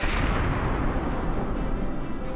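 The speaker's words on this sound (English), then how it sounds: "a supernova is a star that ends its life in a massive explosion" A massive supernova explosion rendered as a sound effect: a sustained, loud, broad rumbling boom that roars steadily with heavy low-end weight and slowly fades in its upper crackle over a couple of seconds, with no voices.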